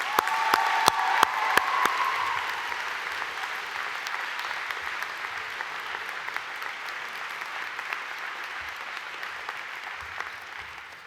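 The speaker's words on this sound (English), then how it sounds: "Please join me in welcoming Anna with a round of applause." Audience applause at a college commencement, a sustained wash of many hands clapping in a large space, a few sharp near claps at first, then a steady even roar that slowly fades toward the end.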